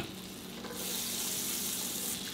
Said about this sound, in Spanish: Ya tengo aquí un sartén caliente, vamos a poner 2 cucharadas de mantequilla.